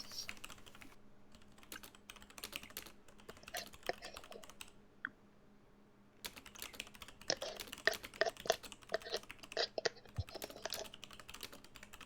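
Steady clacking of fingers typing on a computer keyboard, close and dry, in uneven bursts with a short lull in the middle before faster, denser keystrokes resume.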